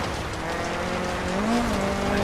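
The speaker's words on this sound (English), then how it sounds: "So if you listen to the engine note" A revving rally car engine in the video game DiRT Rally, with rising and falling pitch as the throttle is worked on and off, steady and fairly loud throughout, with no voices.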